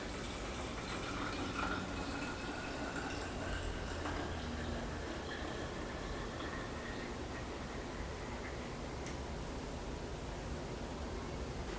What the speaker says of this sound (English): taking the cap off and pouring it back into the container.